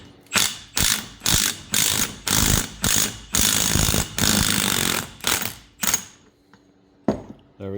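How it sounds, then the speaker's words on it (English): A Milwaukee M12 cordless impact tool running in full reverse on a car's harmonic balancer during differential work, loud rapid hammering bursts in about a dozen evenly spaced pulses, close up, then stopping. "I have my Milwaukee M12, full charge and full reverse."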